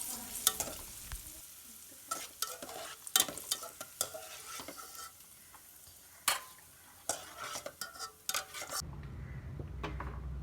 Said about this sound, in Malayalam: ചൂടായ നെയ്യിലേക്ക് നമുക്ക് ഇനി അണ്ടിപ്പരിപ്പും മുന്തിരിയും ഒന്ന് വറുത്ത് മാറ്റിയേക്കാം.